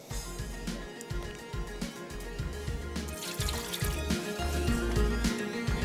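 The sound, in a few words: pouring out water after washing greens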